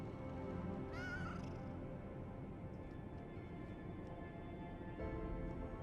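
A single short cat meow rises over a steady hum of background noise in the video game Lies of P, faint and brief, with no voices.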